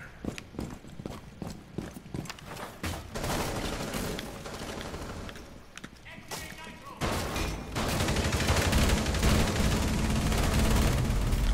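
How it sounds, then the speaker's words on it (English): Gunfire from Rainbow Six Siege crackles in scattered shots that build into a heavier, sustained barrage, with footsteps and a voice speaking in the mix. "Where is all this gunfire?"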